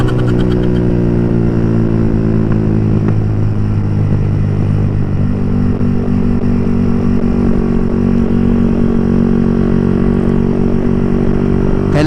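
A loud big-bike motorcycle engine with an open-pipe exhaust roars continuously at close range for the whole stretch, its deep harmonic drone shifting pitch midway as the rider changes speed, with no talk heard over it.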